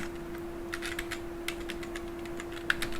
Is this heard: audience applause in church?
no